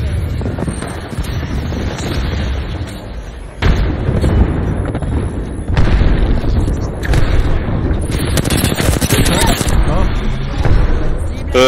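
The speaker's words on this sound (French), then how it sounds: "Artillerie à mon signal, tir effectif." Artillery barrage in a squad-based multiplayer shooter game: a continuous rumble of heavy blasts and bursting impacts, with several sharper loud hits partway through, over wind-like noise and brief voices.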